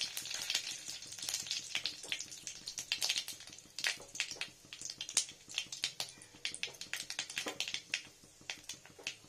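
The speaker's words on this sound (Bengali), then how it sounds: "সর্ষেটা ঠিক মতো ভাজা না গেলে তিতো লাগবে।" Mustard seeds popping and spluttering in hot mustard oil with dried red chillies, a dense run of sharp, irregular crackles and snaps over a faint sizzle.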